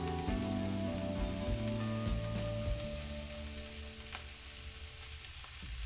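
Onions fry in a pan, giving off a steady, dense sizzle that fills the foreground, with a few soft knocks and scrapes as they are stirred; no one speaks.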